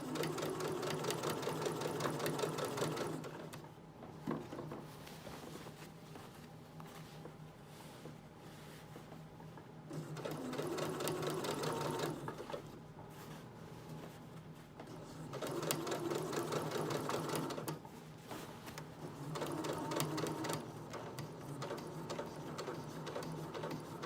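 Sewing machine stitching binding onto the armhole of a dress, running in several steady bursts of rapid mechanical whirring separated by brief pauses, close and clear with no talking.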